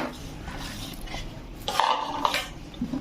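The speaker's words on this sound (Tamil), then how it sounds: "நல்லா கட்டி இல்லாமல் நல்லா கலந்துக்கோங்க." Chilli powder, mustard, fenugreek and salt being mixed for mango pickle, with quiet scraping and clinks of a spoon against a vessel, a few sharper taps in the middle, close and soft.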